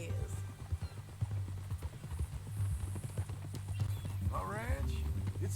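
A horse in Red Dead Redemption 2 clops along with steady hoofbeats and gives a short whinny near the end, heard beneath ongoing conversation.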